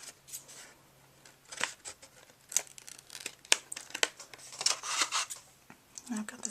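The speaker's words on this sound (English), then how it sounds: "I'm going to cut off that extra piece" Scissors snip through the backing of an XL glue dot, giving a run of short crisp cuts with paper crinkling and rustling close by.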